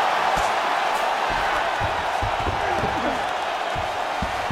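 A crowd at an MMA fight roars steadily, a dense, loud wash of cheering with scattered thumps and shouts beneath it.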